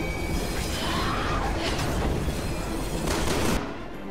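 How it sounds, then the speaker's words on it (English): Sustained, dense gunfire from Resident Evil 6 as a mutated enemy's arms are shot, loud booming volleys running continuously before cutting off abruptly near the end. "Oh, we're gonna shoot her arms again."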